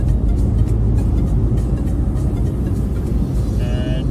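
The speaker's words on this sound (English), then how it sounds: "we are still driving through the motorway" A car cruises along a motorway in Auckland, New Zealand, giving a steady, loud low road and engine rumble with constant tyre noise throughout and a faint brief tonal whine near the end.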